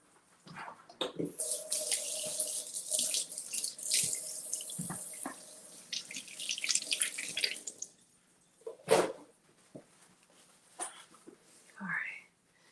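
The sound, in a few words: rinsing lemons under running tap water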